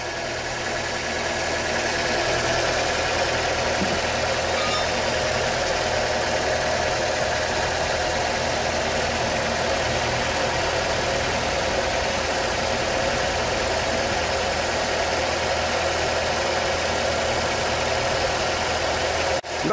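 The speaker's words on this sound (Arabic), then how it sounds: "شوف فيه ما شاء الله موتور لا يرنفل" A Fiat Punto engine idles steadily after new original spark plugs were fitted, a continuous even mid-pitched hum and rumble with no misfire, close and constant throughout without any talk.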